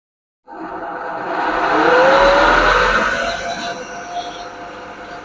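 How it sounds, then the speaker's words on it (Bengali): A 3000 rpm generator driven by a 60-volt motor starts up, a sudden loud mechanical whir that rises to a steady hum and holds, running alone close to the microphone. "দেখেন আমি মেশিনটা স্টার্ট করতেছি"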